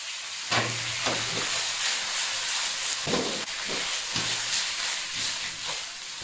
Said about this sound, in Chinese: 再放入鱼骨煎炒一下，不要炒熟，把表面炒香就行